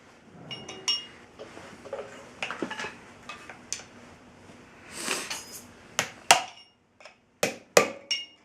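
Metal blows ring out as studs are hammered from the brake rotor of a 1976 Jeep Cherokee hub, scattered clanks speeding into sharp, loud strikes near the end, with lighter clinks and handling noise between.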